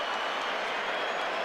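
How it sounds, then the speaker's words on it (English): A large Mexican crowd at ringside of a world-title boxing match between Floyd Mayweather Jr. and Juan Manuel Márquez, giving a steady, dense roar of mixed cheers and noise with no distinct voices standing out. "The Mexican crowd giving him a mixed reception"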